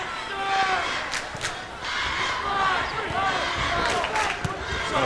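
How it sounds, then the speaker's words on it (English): A crowd of spectators at a 1994 high school boys volleyball championship game cheers and shouts in a gym, a steady roar with rising bursts over about five seconds, with commentators talking over it. "And a volleyball cheer."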